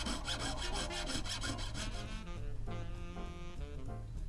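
Excess platinum trimmed off a handmade ring at a goldsmith's bench makes a loud, close, steady rhythmic rasping, like a fine saw or file stroking back and forth, with no talking.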